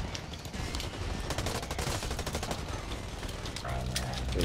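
Rapid bursts of gunfire, including shotgun blasts, crackle through an online shooter match of Blacklight Retribution, quick sharp reports in clusters over a busy game mix.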